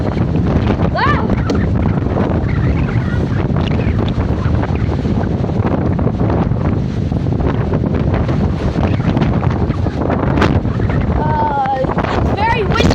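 Extreme windstorm gusts with EF2-strength winds, loud constant roaring wind buffeting the microphone throughout, with faint voices beneath.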